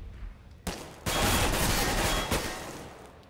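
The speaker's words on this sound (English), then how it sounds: "Is Getright, who'll rattle off a few shots and escape relatively unscathed" Counter-Strike: Global Offensive gunfire in a professional match, a burst of rapid automatic shots that swells into a loud, sustained rattle for about two seconds.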